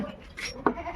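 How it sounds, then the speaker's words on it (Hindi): Young goat kids playing in the morning give short bleats close by, set against quiet outdoor background noise. "बच्चे सुबह सुबह खेल रहे बकरियों के।"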